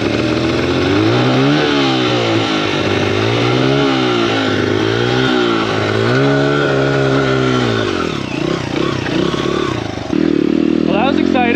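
A dirt bike engine revs hard while climbing a hill, its pitch rising and falling in repeated surges, loud and close, with a voice calling out encouragement over it.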